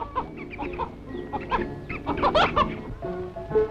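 Poultry kept by young students at Santiniketan cluck and chatter close by. Overlapping, busy clucks and short squawks run continuously.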